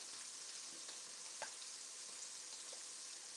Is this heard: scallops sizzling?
yes